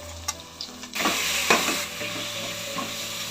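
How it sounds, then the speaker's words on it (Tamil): Ground ginger, garlic and onion sauté in a pan, giving a steady close sizzle with scraping stirs that scrape and clatter a few times. "இஞ்சி, பூண்டு, வெங்காயம் எல்லாம் பாரு நல்லா வதங்கிருச்சு."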